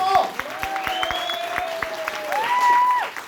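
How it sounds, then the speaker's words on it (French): A live show audience breaks into applause, with whistled tones sliding over the clapping that swells again toward the end. "Donc un tonnerre d'applaudissements pour vous-même, s'il vous plaît."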